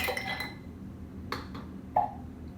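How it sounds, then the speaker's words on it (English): A few hard clinks as ice cubes drop into a cup, one cluster at the start, then two sharp knocks, close and fairly quiet. "The next step is to put some ice in my cup."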